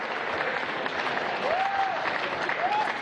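An audience at a Venezuelan presidential broadcast applauds a local mayor, a dense continuous wash of clapping filling the whole stretch, with a couple of brief whistle-like tones rising over it.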